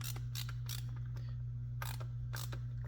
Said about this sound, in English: first set screw backed out, put it right in, push the cable in, and tighten it down